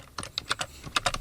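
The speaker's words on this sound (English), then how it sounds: "clearly foleyed in typing noises" Rapid, uneven keyboard typing added as foley, a quick burst of crisp clicking keystrokes heard up close with no voices.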